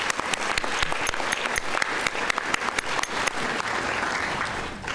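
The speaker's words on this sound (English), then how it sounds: "yes, we can clap on that" Audience at an elementary science fair awards ceremony clapping steadily, a dense burst of hand claps filling the room with no voices over it.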